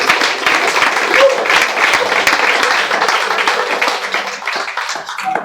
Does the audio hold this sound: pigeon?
no